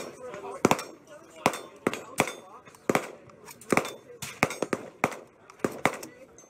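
KelTec KS7 pump-action shotgun shots ring out as a rapid series of sharp, close cracks and clanks with uneven spacing, and voices talk in between.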